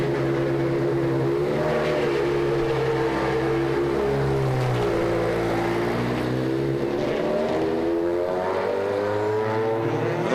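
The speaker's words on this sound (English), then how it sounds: "Jamie Green then in the number 53 Audi. Making his way down the pit lane now." An Audi DTM race car moves down the pit lane at Lausitzring, its engine note rising and falling through clear harmonic revs, moderately loud and steady with a slight drop in pitch midway, no voices heard.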